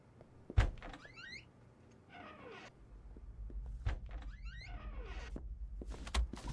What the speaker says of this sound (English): And close the door.